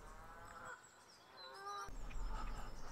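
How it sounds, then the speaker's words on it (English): A Canada goose near a great-crested grebe nest gives a few honking calls at moderate distance, rising over quiet outdoor background noise. "They've got a lot of problems, including this Canada goose."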